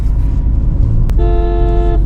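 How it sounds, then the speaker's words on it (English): Horn of a 2023 Tata Harrier SUV sounds once, a steady, thin-toned honk lasting under a second over a continuous low rumble of the vehicle. "This is the horn of the car, and I think a wind tone would have suited it a lot better than this normal feeble horn."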